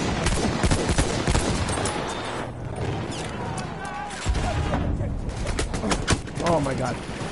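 Battlefield 1 gameplay with dense bursts of machine gun fire and scattered gunshots in a busy battle mix, running steadily under voices talking throughout.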